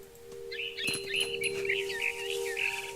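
A small bird chirps in the video game What Remains of Edith Finch, a quick run of high, bright tweets repeating over a low steady hum, fairly close and clear.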